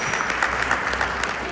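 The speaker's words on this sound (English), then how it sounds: "I just want to give those officers an applause because they deserve it." An audience at a police precinct monthly community meeting claps for officers, a steady, dense patter of many hands filling a room, fairly loud and sustained throughout without speech.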